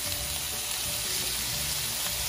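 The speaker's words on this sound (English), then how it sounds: "stir fry our beef" Beef stir-frying in a hot pan gives off a steady, dense sizzle that holds evenly from start to finish, with faint stirring and no talk.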